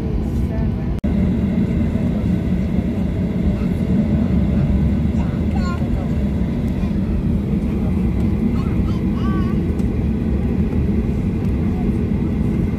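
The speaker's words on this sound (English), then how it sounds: "we finally are now rolling onto the runway for our takeoff" Steady loud engine drone from inside a Qantas 737-800 cabin as the jet taxis onto the runway at Sydney Kingsford Smith, a constant roar with faint chimes and cabin noises on top.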